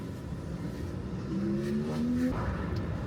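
A Tesla driving through downtown Toronto streets, giving a steady close road rumble and hum with a faint rising whine in the middle, with no talking.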